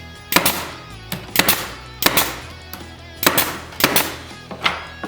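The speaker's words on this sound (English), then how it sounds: "add some glue, shoot a couple nails in" A nail gun driving nails into glued wooden pieces for a homemade Christmas decoration base: about seven sharp, close cracks fired in uneven pairs and singles, each with a short ring-out between them.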